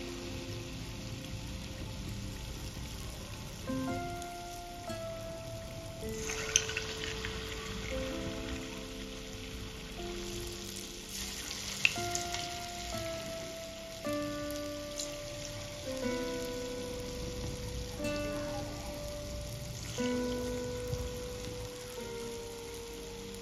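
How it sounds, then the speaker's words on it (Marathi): Banana gulgule fritters fry in hot oil, giving a steady, rain-like crackle and hiss that stays even throughout, heard under faint background music tones. "आता इथे आपल्याला गुलगुले छान तळून घ्यायचे आहे।"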